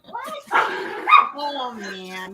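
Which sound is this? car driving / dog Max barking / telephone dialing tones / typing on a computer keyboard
dog Max barking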